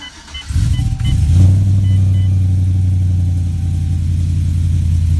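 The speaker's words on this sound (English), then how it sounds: "You're just going to hear the engine rolling." A car engine starts up and settles into a steady, loud low rumble that runs continuously, with no talking.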